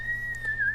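A person whistling a short, clear, sustained high note that wavers slightly, close and alone over a low background hum.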